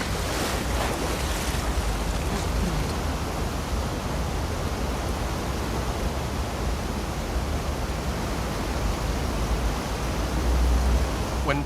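Rushing water current and waves in The Last of Us Part II, a dense continuous roar of flowing water and surf, loud and steady throughout with a slight swell near the end, no voices.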